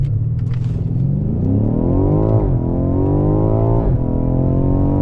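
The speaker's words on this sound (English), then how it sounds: "Foot on the brake, left paddle shifter, and then foot on the gas all the way." A Hyundai with paddle shifters launches at full throttle, its engine roaring loud and close as the pitch climbs sharply, drops at two quick upshifts and climbs again in a continuous, forceful pull.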